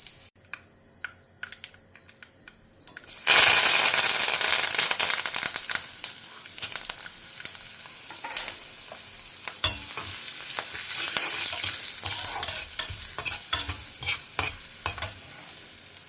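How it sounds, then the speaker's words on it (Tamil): Mustard seeds popping and spluttering in hot oil for a South Indian kara kuzhambu, starting after a quiet moment with a burst of loud sizzle, then crackling on with sharp scattered pops and occasional utensil clicks, close up. "கடுகு கொஞ்சம் பொரியட்டும் கடுகு பொரிஞ்ச கையோடு கொஞ்சமாக பெருங்காயம்"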